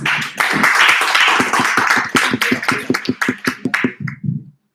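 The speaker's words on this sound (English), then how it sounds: "please give applause to Amos" Audience applause closing a session at a 2019 FHUI student-achievement competition: a dense burst of clapping that thins over a few seconds into scattered individual claps before stopping.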